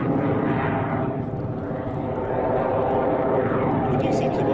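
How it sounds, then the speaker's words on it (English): A British jet training aircraft passes at a vintage airshow at Shuttleworth, giving a loud, steady roar that swells and fades slightly as it flies by, with a voice talking over it. "What do you think of that as being essentially a British training aircraft?"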